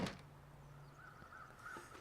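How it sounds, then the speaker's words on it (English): Crows caw in the survival video game The Long Dark, set on a foggy wilderness road, as two or three moderate calls drift in from a distance over a quiet outdoor ambience. "I heard the crows."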